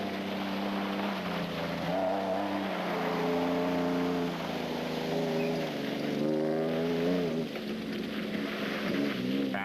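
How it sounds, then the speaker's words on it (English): The Weichholtz Toyota Hilux rally truck engine revving hard on a muddy rally course, a loud sustained roar with pitch climbing and dropping through gears, heard continuously at close range. "Looking a little blind in one eye, the Weichholtz Toyota Hilux sounded better than it looked."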